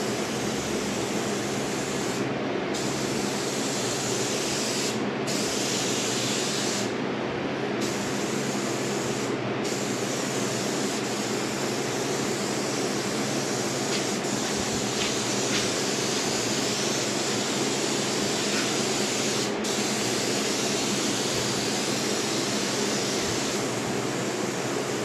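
Rust-Oleum rattle cans spray paint onto a car in a long, close, steady hiss that cuts off briefly a few times before resuming.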